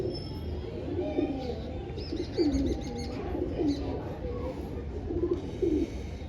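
Allahabadi Kalduma pigeons cooing in low, throaty, repeated calls close by, with faint chirps and some background murmur.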